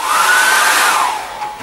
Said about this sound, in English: if I dry that now very quickly with a hairdryer